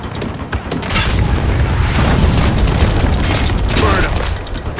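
Mortar fire and explosions in the Spec Ops: The Line white phosphorus sequence, a sustained heavy roar of booming blasts and mechanical rattling that stays loud throughout.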